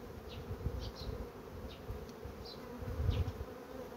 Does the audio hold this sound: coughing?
no